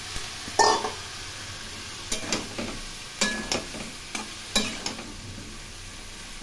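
Eggplant and flat beans with coriander powder fry in a pan for a winter-vegetable spinach curry, with a low sizzle under several sharp, irregular clinks and scrapes of stirring close by.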